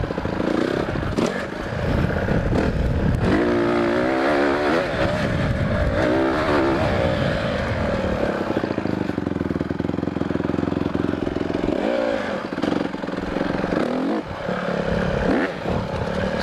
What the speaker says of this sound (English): All right, time for the pit bike jump.